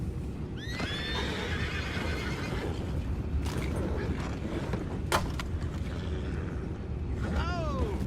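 Horses in Red Dead Redemption 2 whinny loudly, a long neigh early on and another near the end, over a steady bed of background noise.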